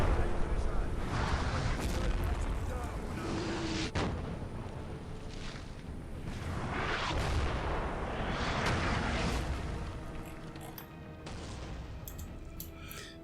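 Artillery bombardment in Napoleon: Total War, Egyptian campaign battle: a continuous rumbling barrage of cannon booms and distant blasts, with a sharp nearer report around four seconds, rolling on without pause.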